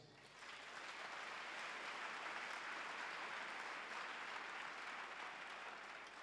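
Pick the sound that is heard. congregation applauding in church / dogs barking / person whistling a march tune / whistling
congregation applauding in church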